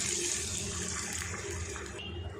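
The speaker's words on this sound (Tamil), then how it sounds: "நான் 2 கப் அளவுக்கு தேங்காய் பால் சேர்த்துக்கிறேன்" Coconut milk poured into a pan for rava upma, a steady close liquid rush and splash that runs throughout with no talk.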